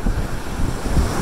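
Ocean waves at Wollongong Beach, Australia, roar loudly in a continuous surf wash mixed with heavy wind buffeting the microphone, with no talking.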